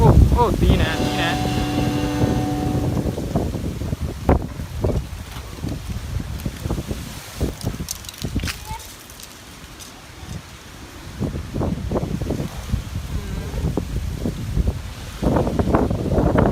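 Strong gusting wind before a storm on 12 April 2020, a loud continuous roar with microphone buffeting that swells and eases, with someone talking excitedly over it at times.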